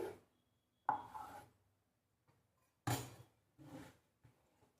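A knife cuts sweet puri dough into equal pieces on a board, giving a few soft, separate chopping thuds and brief scraping strokes with silent gaps between them, close and quiet, with no talking.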